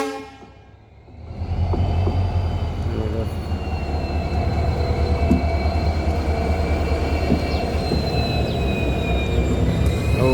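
Agartala Express standing at Karimganj Junction during an engine change, with a loud, steady rumble of idling locomotive and rail machinery, long sustained high tones like a horn or brake whine, and faint background voices.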